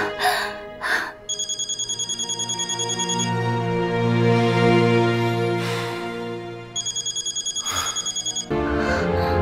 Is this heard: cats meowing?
no